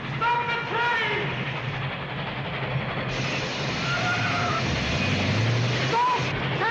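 A train rumbles steadily through a dramatic scene from the film The Greatest Show on Earth, with a continuous heavy roar, a whistle-like tone near the end, and voices shouting over it.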